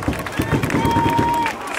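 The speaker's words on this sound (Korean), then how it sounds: "힘찬 격려의 박수를 부탁드립니다" Stadium crowd at a Hanwha Eagles baseball game applauding and cheering in a loud, steady wash, with a sustained whistle-like tone partway through.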